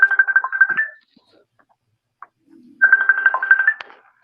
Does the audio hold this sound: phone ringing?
yes